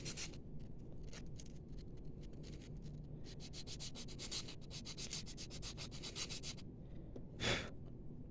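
A worn carbon brush from a drill machine being sanded down by hand, rapid rhythmic back-and-forth rasping strokes, close and steady, with one brief louder scrape near the end.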